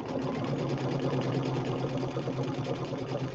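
A Brother Luminaire sewing machine runs steadily through a straight stitch, its motor hum and needle clatter loud and continuous with no pauses and no voices.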